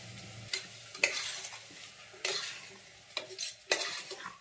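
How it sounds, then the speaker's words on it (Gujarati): Mixed dal and rice tipped into hot spiced tempering for khichdi in a pot, giving several bursts of sizzling and scraping spoon stirs at close range, separated by quieter frying hiss. "પછી આપણે નાખશું આ જે બધી દાળ ને ચોખાને ભેગું કર્યું"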